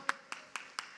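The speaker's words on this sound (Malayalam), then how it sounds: "നല്ല ശബ്ദത്തിൽ നല്ലൊരു കയ്യടി കൊടുത്ത് കർത്താവിനെ മഹത്വപ്പെടുത്ത്" A congregation claps together in praise at a church worship gathering, four crisp bursts roughly a quarter second apart, fairly faint and distant, with no voices over them.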